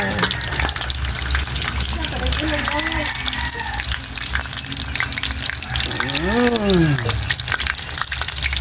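Broth poured into a hot frying pan gives a steady, close sizzle and bubbling hiss that holds throughout, while people talk over it.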